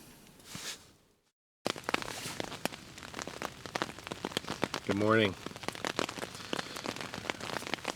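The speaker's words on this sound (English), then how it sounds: "It's been raining for over an hour" Steady rain pattering on a surface at an island campsite, a dense continuous hiss with scattered drops, briefly interrupted near the start; a voice speaks a short greeting.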